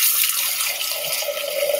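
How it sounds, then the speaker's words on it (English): Wine poured from a heavy bottle into a glass, a steady liquid stream running close and continuous for under two seconds, its gurgle rising slightly in pitch as the glass fills. "All right, I'm gonna pour it in."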